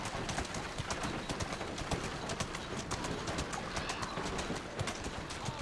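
Horse hooves clip-clopping steadily in Assassin's Creed Syndicate, a dense rapid patter of footfalls over a busy street-like backdrop with faint bird calls, running continuously and fairly loud throughout.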